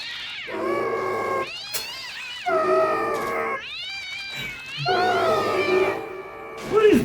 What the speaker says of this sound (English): Aw, ice cream kitty.